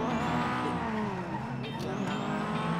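A car engine whines at high revs while tires squeal in a long skid, steady and loud throughout, with no talking, in the video game GTA V.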